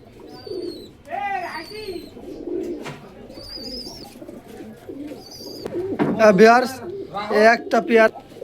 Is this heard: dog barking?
no